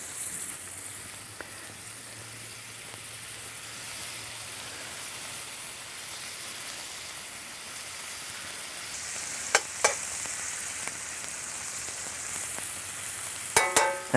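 Asparagus sizzling steadily in a skillet with steak juices, butter and garlic, a continuous frying hiss with a few sharp clinks of a utensil against the pan, close and without speech.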